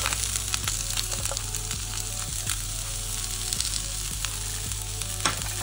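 Carrots and onions sizzle and fry in an oiled pan while being grilled for a salad, a steady close hiss with faint scattered clicks of stirring throughout, no voices.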